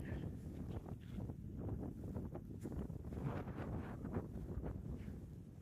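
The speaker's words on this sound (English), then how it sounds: "And it's windy." Strong wind buffets the microphone outdoors on snowy cinder ground, a steady loud low rumble with gusty surges throughout, no voices.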